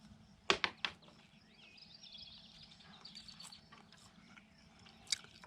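Close, crunchy chewing of a walnut in a few sharp bites at the start, one more near the end, and soft mouth sounds in between over a quiet room hum.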